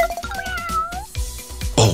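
Kittens meow in a high, gliding cry that repeats, set among bright musical tones and soft knocks, with a louder burst near the end.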